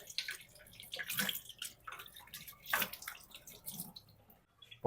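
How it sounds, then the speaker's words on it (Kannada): A papaya washed under running water, splashing and dripping with uneven gushes and soft patters, close and moderately quiet. "ಅದೇ ಥರ ಪಪ್ಪಾಯ ಹಣ್ಣು ತೊಳ್ಕೊಂಬಿಡೋಣ"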